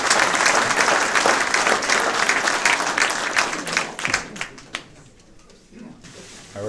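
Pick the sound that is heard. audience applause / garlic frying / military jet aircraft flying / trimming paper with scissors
audience applause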